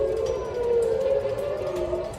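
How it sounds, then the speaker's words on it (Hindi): Air raid siren wailing over Tel Aviv during a ballistic missile attack, a steady sustained tone that slowly dips and rises, loud and continuous with no voices. "शहर की फिजा में गूंजता ये सायरन"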